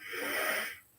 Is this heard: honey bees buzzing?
no